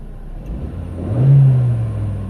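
Toyota Corolla engine idling with unstable idle, its hum shifting in pitch as the air conditioning switches on and the RPM drops, a close steady drone with no voices.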